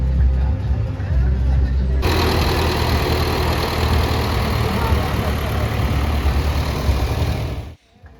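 A tractor engine runs at idle during a carnival parade, a steady low rumble that grows louder and fuller partway through before cutting off abruptly near the end, with crowd noise around it.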